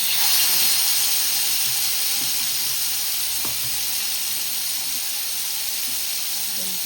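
Chicken sizzles on a hot tava with a steady, dense hiss and faint crackle, loud and continuous with one brief tap partway through.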